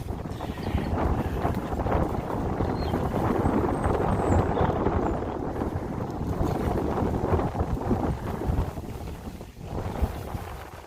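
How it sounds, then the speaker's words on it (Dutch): Strong wind near Kloosterzande, Netherlands, buffets the microphone in a continuous loud roar with gusty surges, and faint water or boat noise sits beneath it. "Momenteel is het enorm veel wind"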